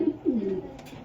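A racing pigeon gives a short rolling coo, one soft burst followed by a longer throaty phrase, close by against quiet background.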